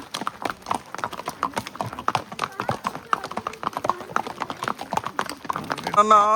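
Horse hooves clip-clop steadily along a path near Matheran and Neral, a quick, close, even rhythm of sharp knocks, with voices chatting faintly in the background.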